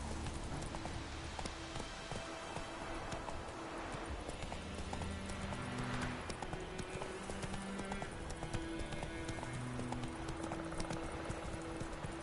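Horse named Roach galloping in a PS4 video game, with a steady rapid clip-clop of hooves running throughout and an occasional faint whinny, no talk over it.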